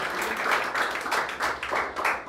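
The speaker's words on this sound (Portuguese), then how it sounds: "Uma salva de palmas para ele aí que merece." An audience at a church ministry anniversary service claps for a birthday guest, a rhythmic wave of applause that swells and fades in regular pulses at a moderate, slightly distant level.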